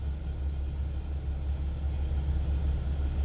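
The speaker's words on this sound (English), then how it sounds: "I can hear the compressor. It's already cut in" A bus air brake compressor runs with a steady low rumble and hum during a pre-trip inspection, continuous and moderately loud, with no talking.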